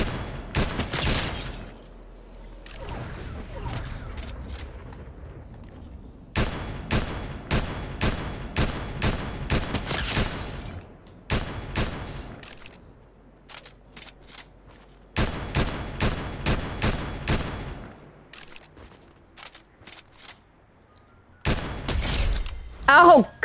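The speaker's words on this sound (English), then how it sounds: "That was a good shot." Rapid bursts of gunfire in a Fortnite Zero Build squads match, several loud volleys of quick repeated shots separated by quieter gaps, with players talking over the action.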